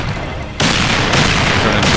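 Loud, continuous explosions in a private-server video game, bursting in back-to-back with a sudden jump in volume and then rolling on as a dense, unbroken roar with repeated fresh blasts.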